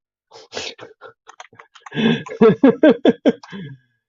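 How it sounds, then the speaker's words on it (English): Quick irregular clicks of keys being typed, sparse at first and then a denser burst of louder taps, close to the microphone with no talking. "I will just start typing in flags now."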